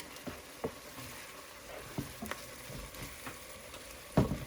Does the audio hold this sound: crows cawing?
no